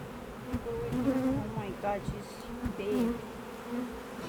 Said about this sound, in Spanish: Las abejas hacen un sonido súper relajante y eso me enamoró completamente.